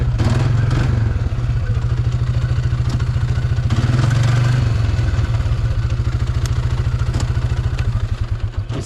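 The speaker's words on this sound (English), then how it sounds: "I love this quad bike. I just love driving this thing." A quad bike engine runs steadily while being driven, a loud close low throbbing drone with rhythmic pulsing and some clatter, holding a constant level throughout.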